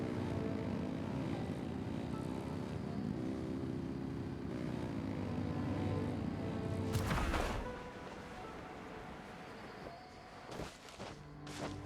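Steady engine drone in Genshin Impact, loud and continuous like a propeller craft revving, then cutting off sharply with a burst of noise before quieter ambient sounds follow.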